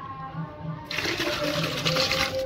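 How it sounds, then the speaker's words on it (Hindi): Water pours steadily into a cooking pot where soapnut is being mixed in for a homemade natural shampoo. The splashing and gurgling is close and fairly loud, starting about a second in and running for under two seconds. "ये पानी भी इसी में ही हमें मिक्स कर देना है"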